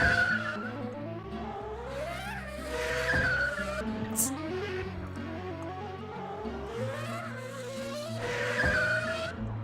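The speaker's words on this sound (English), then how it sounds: "I'm surprised they get the actual car noises for this" Race cars in the game Reksio and the UFO, engines whining and rising in pitch as they pass, with loud tire squeals and skids recurring over a steady motor drone.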